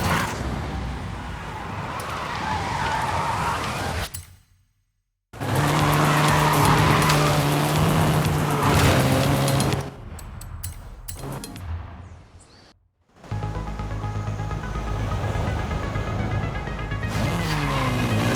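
A 2012 seventh-generation Volkswagen Golf R driven hard in Forza Horizon 5, with a loud engine and squealing, skidding tires that run in long stretches broken by two brief silent gaps.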